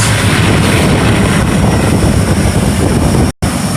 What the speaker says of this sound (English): And another set of P-51 Mustangs.